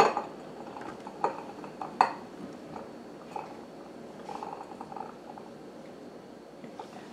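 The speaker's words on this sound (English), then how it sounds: "I'm putting it down into my jar." Blanched acorn or butternut squash pieces being packed by hand into a glass canning jar with a pat of butter, giving a few soft knocks and clinks of food and glass, fairly quiet and spread over several seconds.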